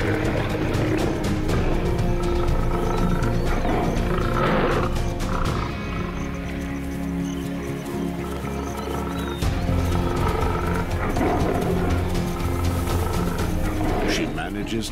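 Lioness roaring and snarling as she defends her little family against attacking males, deep growls and roars mixed with a continuous busy soundtrack, with a narrator speaking over it.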